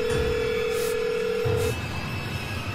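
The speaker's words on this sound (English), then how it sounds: "I had the sense to take out my phone and dial 911" A phone dialing 911 plays a held tone, then a brief shift to another tone, over a steady faint hum with no voices.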